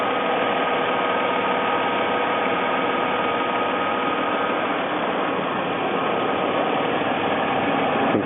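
A 2006 Mercedes-Benz C280 engine idles while warming up, a steady, even, close drone with constant vibration and no change in pitch or level throughout, with no voices.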